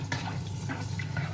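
Black cumin and red chili hit hot mustard oil for a tempering, producing a low steady sizzle with light scraping stir sounds and a soft clink of a utensil against the pan.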